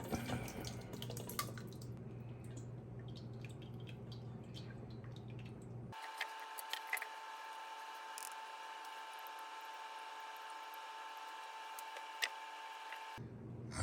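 Homemade pepper hot sauce is strained, with quiet liquid trickling and dripping through a strainer, then a brief abrupt shift to a thinner, hissy stretch with sparse ticks.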